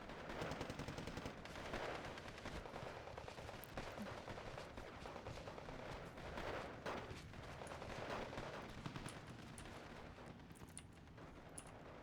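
Assault vehicles firing steadily in a strategy video game battle, a dense, continuous rattle of gunfire mixed with distant blasts, sustained without pause for the whole stretch.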